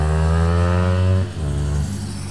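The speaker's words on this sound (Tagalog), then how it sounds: "Ito yun yung flyby sound niya." A Yamaha R3 sport bike with a Yoshimura R77 exhaust passes close by, its engine note loud and steady on approach, then dropping in pitch and fading as it moves away.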